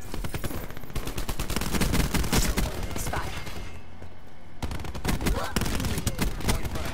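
Automatic gunfire from the Black Ops 4 video game rattles in dense, continuous rapid bursts, loud and close, with a short lull midway before the shooting resumes.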